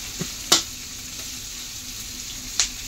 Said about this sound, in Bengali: ওই পেঁয়াজটা ভাজা হয়ে গেল